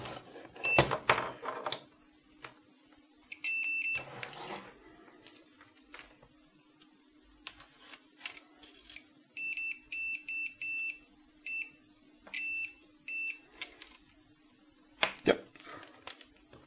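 While a keyboard's wiring is being checked, a continuity tester gives several short, high, steady beeps in irregular bursts. A steady low electrical hum, clicks and handling noise run underneath.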